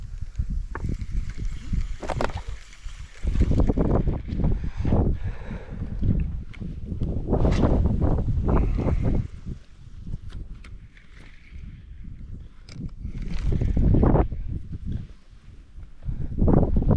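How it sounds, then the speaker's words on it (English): Gusty wind at a private lake blows across the microphone in uneven rushes and thumps, loud and close, with no talk. "This wind can fuck off."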